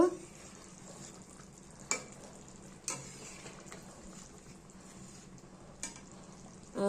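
A pan of fish curry simmers with a soft, steady sizzle and bubbling, broken by a few sharp clinks or knocks of stirring at close range.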